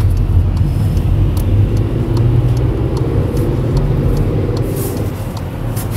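A 2014 Volkswagen Polo Fresh 1.2 TSI 66 kW accelerating in third gear onto a busy highway, its steady, loud engine drone and road rumble heard from inside the cabin throughout.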